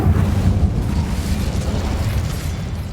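The Incendio fire spell in Hogwarts Legacy, cast in a cave, throws out a loud, continuous rumbling roar of flame that runs for the whole stretch without a break.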